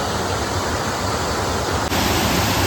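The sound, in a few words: waterfall in Wintergreen Gorge heard from above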